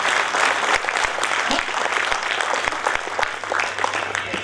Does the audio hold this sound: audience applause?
yes